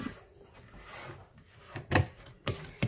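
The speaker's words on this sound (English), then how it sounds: "I'm going to give it a scrape." A spatula scrapes cake batter around a mixing bowl, a soft rubbing drag followed by two sharper knocks late on, fairly quiet and without talk.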